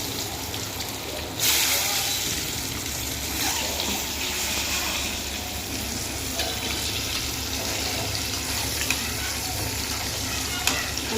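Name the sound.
eggs frying in a pan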